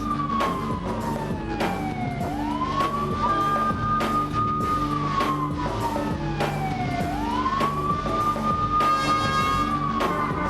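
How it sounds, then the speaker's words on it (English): A wailing siren rises and falls in long sweeps, loud and continuous, over a steady rumbling arena crowd din at a wrestling event, with sharp periodic bursts layered on top. "those are the sirens saying Big Papa Pump is in the house"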